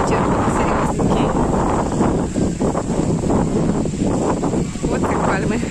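Strong wind at the Lido di Jesolo beach resort in Italy roars steadily across the microphone in a loud, continuous broadband rush that gusts slightly but never lets up.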